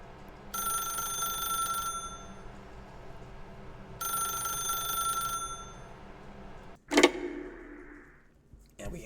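A telephone rings in The Stanley Parable Ultra Deluxe, two long electronic ring bursts with a pause between, then a sharp clunk as the receiver is picked up, over a low ambient hum.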